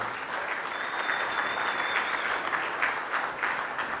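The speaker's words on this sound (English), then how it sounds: "Let the record reflect that Nancy got more applause than Brian Barnett." An audience at a mayors' winter meeting plenary session applauds steadily, with dense, sustained clapping from a large room that stays even in volume throughout.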